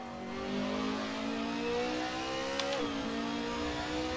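A Mark III Scirocco race car engine at Sonoma in Assetto Corsa sim racing, droning steadily as the pitch climbs smoothly, then dipping at a brief shift before holding on again, close and fairly loud.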